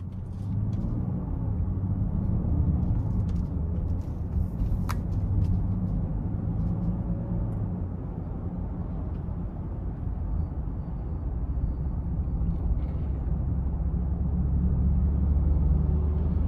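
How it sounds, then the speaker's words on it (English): A 2023 Land Rover Defender 90X cruises on the road, its steady engine hum and tyre rumble droning low and constant from inside the cabin, with a few faint clicks and no talking. "we're going to go ahead and take this Defender 90X out on the road for a quick test drive."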